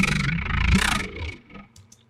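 Growling synth bass run through a vocoder and a filter that cuts the highs, a single short snarling note that swells and then fades out, heard alone.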